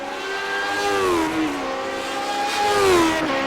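Lotus 79 race cars in a racing simulator roar past in a loud, steady engine drone whose pitch glides down and up as they shift and pass, with no talk.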